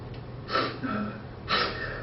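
A man crying buries his face in his hands and takes two sharp gasping breaths about a second apart, close and moderately loud, with softer breathing between them.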